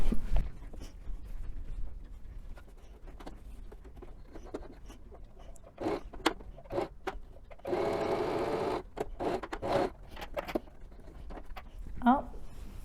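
A Lidl sewing machine stitches a tote bag, with short bursts of rapid mechanical stitching and clicks, one sustained whirring run in the middle, and quiet gaps between, under occasional talk by a beginner sewer.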